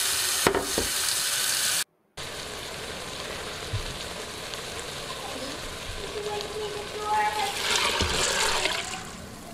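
Tap water runs into an Instant Pot to top up a pinto bean cooking liquid of beer and water to seven cups, a soft hiss that swells into louder rushing near the end.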